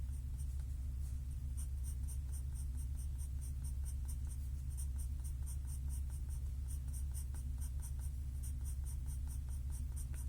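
A soft 4B graphite pencil drawing foliage on paper, with steady scratchy strokes and rhythmic short marks repeating closely, heard near over a constant low hum.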